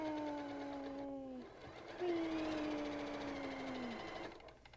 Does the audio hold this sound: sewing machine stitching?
yes